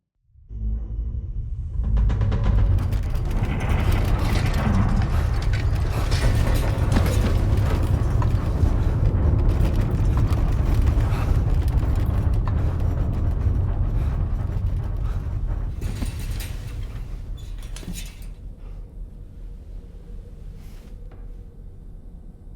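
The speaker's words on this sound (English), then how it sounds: "That was a gatequake just now." A gatequake in the video game Death Stranding 2 sets off a deep, sustained rumble with eruptive, booming low-end and scattered crackling bursts, holding loud for most of the stretch before slowly fading.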